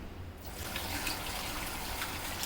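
Tap water runs into a sink as satkora citrus, coated in salt, is rinsed by hand. The flow starts just after a brief quiet moment, then gushes steadily and close with a faint splashing texture.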